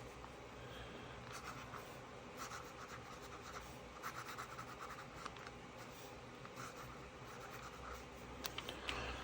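A fountain pen inked with Birmingham Pen Co. Petrified Wood ink writes on paper, a faint, steady scratchy rustle with small stroke bursts throughout, close and quiet with no talk.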